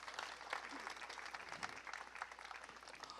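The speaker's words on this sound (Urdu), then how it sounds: "زوردار تالیاں ان کے لیے بجا دیجیے گا" Applause from a congregation during a Sunday church service in Pakistan, a dense steady clapping that fills the room for a few seconds, with no voices standing out above it.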